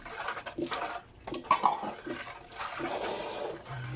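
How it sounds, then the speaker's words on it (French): Washing soda crystals and baking soda are stirred into a melted laundry-foam mixture, producing close clinking and scraping of a utensil against a container with watery swishing, in irregular bursts and pauses. "je vais ajouter les cristaux de soude et le bicarbonate. Je mélange bien."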